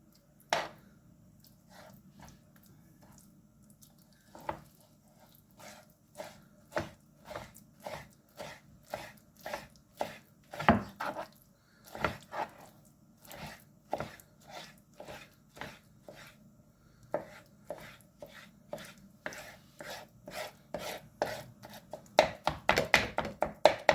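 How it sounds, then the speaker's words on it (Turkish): A knife chops roasted eggplant steadily on a cutting board, a quick run of close, sharp taps that grows denser and louder toward the end. "Hepsini bu şekilde doğrayalım arkadaşlar."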